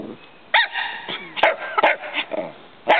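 A dog barks repeatedly at a box turtle outdoors, sharp bursts coming close and loud in an irregular rhythm.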